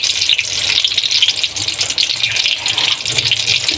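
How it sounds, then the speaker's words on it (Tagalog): Water gushes into a cooking pot that holds a vinegar-seasoned dish, a loud close splashing pour that keeps going steadily from start to end. "Siyempre, lagyan natin ng konting tubig."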